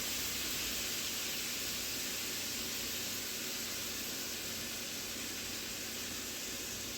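Ground beef browning in a pan for a steakhouse burger sloppy joe, a faint continuous hissing sizzle that stays even throughout, with no talking.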